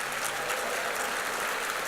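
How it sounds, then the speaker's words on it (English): Brief, steady applause from a seated audience at a union leadership conference, a distant wash of clapping with no voices over it. "Give them another round of applause."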